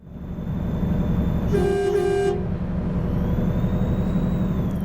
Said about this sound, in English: Give him a honk of appreciation.